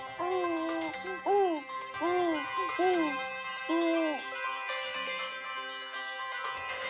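A melodic phone ringtone plays a repeating pattern of bright, swooping tones, several short phrases in a row, fairly close and clear.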